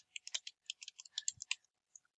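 Light clicky keystrokes on a computer keyboard come in short, quiet bursts of separate taps, with a brief pause partway through and no talking.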